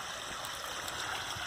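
A spring-fed stream flowing into a 10,000-gallon koi pond, a steady even rush of running water, close and continuous with no voices.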